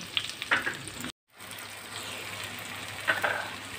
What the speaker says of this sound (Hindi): इनको सौते कर लेंगे हम।